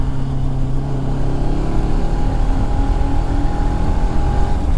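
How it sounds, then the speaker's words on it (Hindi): A Bajaj Pulsar RS200 with a freshly changed air filter cruises in fourth gear. Its engine makes a sustained, near, rumbling drone with a faint whining tone running through it, even in loudness throughout, with no voices. "4th गियर में RPM जब 4 और 5 के क्रॉस होता है तो कुछ आवाज़ ऐसी आती है वूं वूं वूं वूं करके।"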